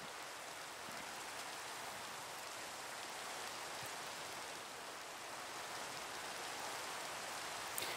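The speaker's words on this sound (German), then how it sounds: "Der Regen ist leider etwas lästig" Steady rain in Minecraft, a soft, even hiss of falling drops that continues unbroken and fairly faint, with no other sounds standing out.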